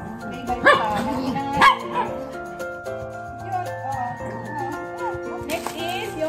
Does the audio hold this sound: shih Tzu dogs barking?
yes